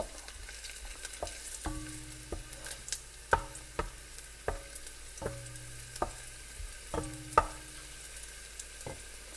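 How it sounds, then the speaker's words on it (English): Repeated bursts of garlic sizzling in a hot pan, with periodic clicks and stirring scrapes in a steady rhythm; no voices. "you can hear the garlic sizzling"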